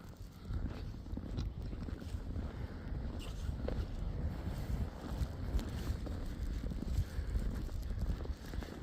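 Wind blowing snow during a snowstorm in Canada, heard as a continuous, buffeting roar with gusty rumbling and microphone wind noise, loud and unbroken for the whole stretch.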